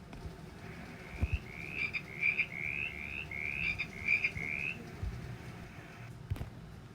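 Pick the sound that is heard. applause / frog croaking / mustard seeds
frog croaking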